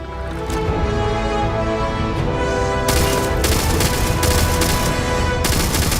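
A scoped gun fires in the video game Starfield, with dense, loud, continuous gunfire and blasts throughout and a sharper burst of shots in the second half.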